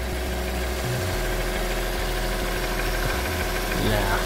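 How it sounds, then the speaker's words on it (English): A Vauxhall Corsa engine idles steadily after a water pump and thermostat replacement, giving a continuous close hum with light mechanical knocking and vibration and a slight rise in revs near the end. "The engine sounds alright."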